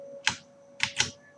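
Typing on a computer keyboard while writing Android Studio code produces three quick, crisp key clacks, one single tap then a pair in close succession, near and clear against faint room hum.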